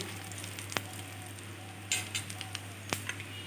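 Whole dry chillies, bay leaf and cumin seeds sizzle steadily in a little hot oil in a kadai, a continuous frying hiss broken by a few sharp clinks of a spoon against the pan.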